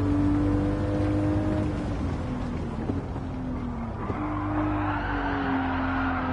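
Tires squealing as a car drifts in Gran Turismo 7, long pitched skid tones sliding over a steady engine drone, close and continuous throughout.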